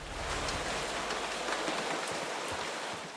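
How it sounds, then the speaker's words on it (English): Steady rain patters continuously in the video game Eternal Darkness: Sanity's Requiem, louder near windows, as a dense, even hiss of droplets, moderately loud with no voices. "Like how you can hear the sound of rain. It's louder when you're near the windows."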